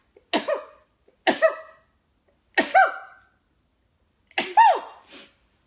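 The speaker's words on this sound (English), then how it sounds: "And I'm going to sneeze." Four sharp, close sneezes in a row, separated by short pauses, each a sudden burst with a breathy tail.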